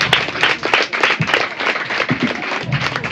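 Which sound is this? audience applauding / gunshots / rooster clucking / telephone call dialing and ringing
audience applauding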